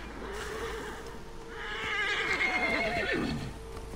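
A horse neighs in the video game Assassin's Creed Origins, a drawn-out whinny that rises and trails off over a couple of seconds against a steady ambient game background.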